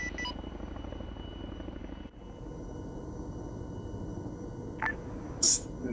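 Helicopter in a military video game, its steady rotor and engine drone running continuously and fairly loud throughout, with a brief dip partway and a couple of short beeps near the end.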